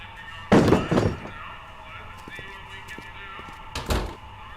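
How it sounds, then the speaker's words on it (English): Two heavy thuds of a gun banging on a door in the Back to the Future video game, a loud pair of blows early on and a single later knock, with soft ambient background between. "He just takes out his gun and bangs on it."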